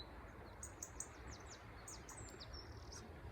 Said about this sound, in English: There's a little robin somewhere.